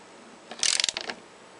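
A short run of quick metallic ratcheting clicks from a wrench tightening bolts on a hydrogen dry cell, close and fairly quiet, lasting about half a second with no talking.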